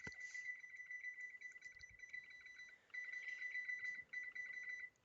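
A kitchen timer beeps in rapid, steady bursts, a thin high electronic tone repeating continuously with two brief pauses, faint and alone with no talking.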